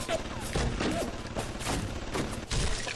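Gunfire in the underwater city game Bioshock: several sharp shots in an uneven burst over a few seconds, fairly close, with a low rumbling background.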